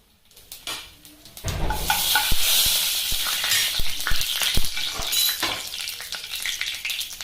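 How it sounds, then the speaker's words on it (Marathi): Cumin seeds hit very hot oil in a pan and burst into a loud, close crackling sizzle after a quiet start, with occasional spoon or pan taps over the hiss and no speech. "थोडेसे जिरे टाकून घेते याच्यामध्ये एवढे जिरे टाकते"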